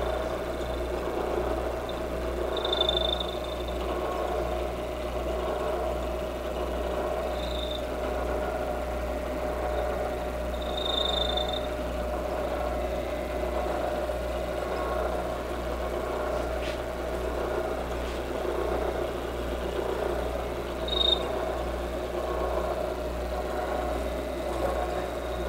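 A milling machine spins a 1-inch two-flute end mill at about 700 RPM, slowly boring a 1-inch hole. It gives a steady, continuous motor hum with a low drone and occasional faint high squeaks from the cut, and no talk.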